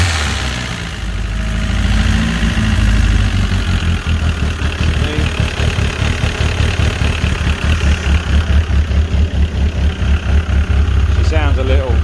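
A Caterham sports car engine, salvaged after damage, idles steadily with a slightly tappy top end, a close, continuous low rumble with a fast regular pulse and occasional ticking near the end.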